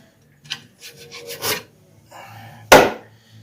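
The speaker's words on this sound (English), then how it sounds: "I like to clean out the grooves where these holders go, caliper pin holders." Gunk being scraped and rubbed out of the caliper pin holder grooves on a Ford Ranger's front brakes, a few short rasping strokes ending in one louder scrape.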